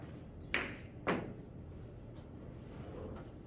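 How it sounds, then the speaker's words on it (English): A golf ball thrown against a wall in a quiet classroom gives a sharp knock, followed about half a second later by a second, softer knock, then faint room noise. "the collision there was between the golf ball and the wall"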